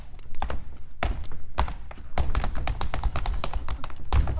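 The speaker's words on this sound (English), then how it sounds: "I've got a portable stage here, okay? And I've Okay. got on my tap shoes." Tap shoes striking a portable stage floor in a quick, irregular run of sharp, close taps and heavier thunks, fairly loud, with no talking.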